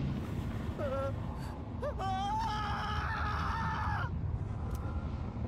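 A character in Persona 3 Reload lets out a long, rising, wavering scream with strained, crowing-like harmonics, preceded by shorter gasping cries, loud and close over a steady game background.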